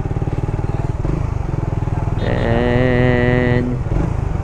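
A Suzuki Raider 150 Fi motorcycle engine idles with a steady, pulsing throb, close and fairly loud, and a brief higher whine rises over it midway through.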